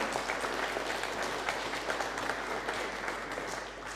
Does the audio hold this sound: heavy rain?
no